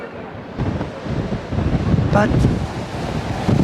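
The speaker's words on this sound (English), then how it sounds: "Oh my god, it's so windy up here." Strong wind gusting across the open top of the Leaning Tower of Pisa, a loud broadband roar buffeting the microphone and building from about half a second onward, with a brief voice partly heard over it.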